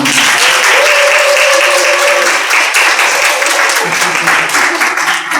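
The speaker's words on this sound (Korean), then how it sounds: "우리 어린이들에게 좀 우리 격려의 박수를 한번." A church congregation applauds children at a sixth-anniversary worship service, sustained broadband clapping from many hands filling the hall for several seconds, with a voice and faint tones sounding underneath.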